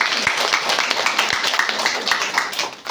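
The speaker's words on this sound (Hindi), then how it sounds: "ताली बजाओ थोड़ा" Audience clapping in a meditation class hall in Kohalpur, Nepal, a dense, steady patter of many hands over the full stretch, fairly loud and continuous with a few sharper claps standing out.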